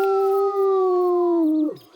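A single long, clear wolf howl from the Call of the Wild video game, a steady tone that holds and then slides down and fades near the end.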